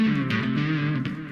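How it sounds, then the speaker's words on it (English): A short electric guitar phrase rings out with heavy distortion, notes smearing into each other through a trailing delay. "if I play this lick, for instance, with too much of a delay and distortion"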